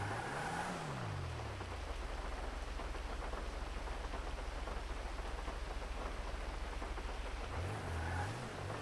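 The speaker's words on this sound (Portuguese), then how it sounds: "começou a chover." Rain begins falling in the video game GTA V on a FiveM server, a steady dense hiss of downpour with a low rumble underneath, continuous and fairly loud throughout with no talking.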